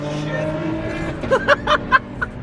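A BMW E36 M3 engine drones steadily as the car accelerates in a street race. Near the end, sharp, loud tonal bursts rise over the engine noise, and voices are heard alongside.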